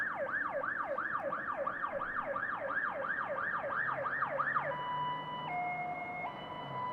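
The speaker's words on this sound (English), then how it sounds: "Interesting siren cadence" A Finnish emergency vehicle siren wails in a fast, regular rise-and-fall cycle, then switches to a slower two-tone hi-lo pattern, moderately distant over low traffic rumble, with no talking.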